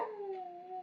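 A dog lets out a single drawn-out, whining yelp, a steady high-pitched cry that slowly falls and trails off, close and alone.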